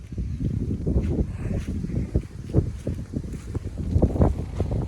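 Wind gusting across open farmland in a dry spell, rough buffeting rumble with uneven bursts hitting the microphone, close and continuous without speech.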